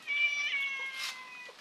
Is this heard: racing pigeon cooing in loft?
no